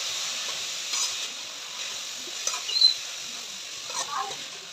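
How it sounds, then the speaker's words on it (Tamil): Carrots and cabbage sautéing in a pan for fried rice give a steady, soft sizzling hiss, broken by a few light stirring scrapes. "கேரட் போட்டு நல்லா வதக்கிக்கலாம்."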